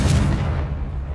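A Confringo blasting spell cast in the video game Hogwarts Legacy, a single heavy booming blast that rumbles loudly and fades over about a second.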